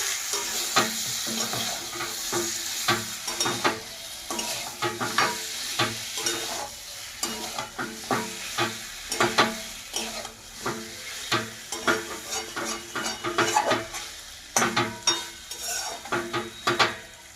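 Chicken with whole spices frying in hot oil in a pot, stirred briskly: a loud continuous sizzle broken by repeated rhythmic scrapes and clinks of a spoon against the metal, close up and without speech.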